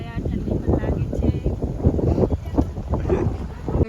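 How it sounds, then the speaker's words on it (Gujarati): Strong wind buffets the microphone on a road atop a dam, a loud continuous roar with gusty swells, while a person talks over it. "વરસાદ નહીં, પવન ચાલુ છે અત્યારે"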